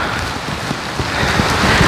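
Heavy rain falling through forest canopy makes a steady, dense hiss with scattered drips and patters close by, plus a low rumble, and no voices over it.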